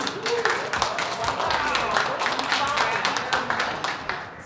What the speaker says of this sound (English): Let's have a nice round of applause right now